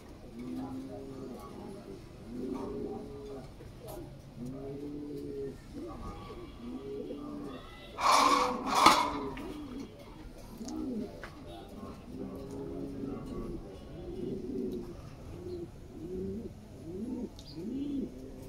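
A pair of red Lahori pigeons coo repeatedly in soft, low rolling calls, close by, while a person talks over them and a brief burst of flapping or scuffling breaks in midway.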